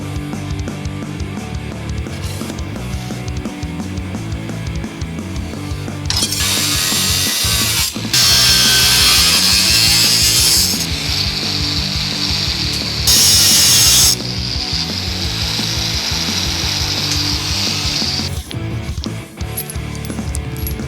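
A power tool cuts through thick steel triangle braces on a car project, a loud rough grinding-cutting roar that surges in several sustained bursts over a steady noisy shop background, with no speech.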